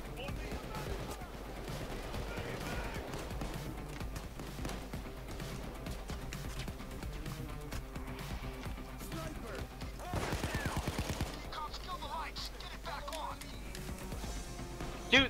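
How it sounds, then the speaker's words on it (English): Gunfire in the video game Payday 2, dense layered shooting and bursts running continuously under game music and effects, with a louder cluster of rapid shots midway. "they're shooting me through like five people"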